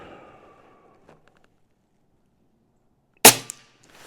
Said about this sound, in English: We'll shoot what pellets I got here and call it a day on this test.